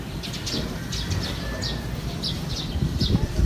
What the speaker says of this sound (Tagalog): tanging huni lang ng ibon yung maririnig mo